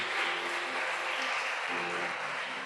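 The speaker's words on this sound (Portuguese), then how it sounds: "Você pode dizer amém para Jesus e dar um aplauso bem bonito para Ele essa noite." Steady dense applause from a church congregation during an evening worship service, a continuous broadband wash of many hands clapping at even loudness throughout, with no speech over it.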